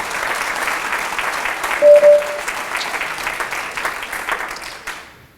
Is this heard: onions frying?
no